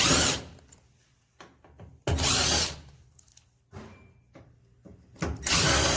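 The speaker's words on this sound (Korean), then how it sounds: "이 나사들을 풀도록 하겠습니다." Screws being unfastened on a Samsung drum washing machine, removing the main control board: loud bursts of power-driver whirring in several separate runs, broken by short clicks and quieter pauses.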